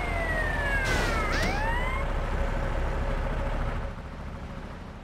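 A fire truck siren in the video game GTA Vice City Stories, loud and near, its wail sweeping up and down through several overlapping cycles before fading under engine rumble toward the end.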